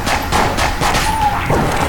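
A small explosion in the Enter the Gungeon video game sounds among a busy mix of rapid gunfire and thuds, close and loud.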